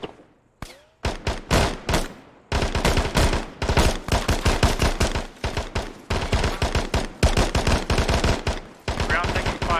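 Sustained gunfire in a military shooter game, dense rapid bursts of automatic weapons firing loud and close with short gaps between volleys.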